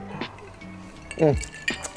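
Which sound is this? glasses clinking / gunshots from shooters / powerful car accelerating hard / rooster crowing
glasses clinking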